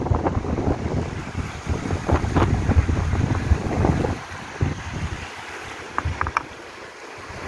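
Strong wind buffets the microphone outdoors beside the Seomjin River near Hadong, a loud rumbling roar that gusts heavily, then eases to softer rushing with occasional sharp knocks.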